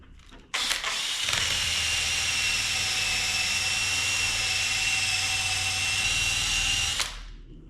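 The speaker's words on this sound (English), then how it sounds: "Probably be getting out the trusty eraser wheel in a second here." Power drill spinning an eraser wheel against a Jeep TJ's painted body to strip adhesive, a loud steady whine that kicks in abruptly, holds for about six seconds, then stops.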